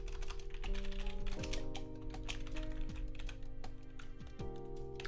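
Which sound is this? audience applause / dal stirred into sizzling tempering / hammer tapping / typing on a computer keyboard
typing on a computer keyboard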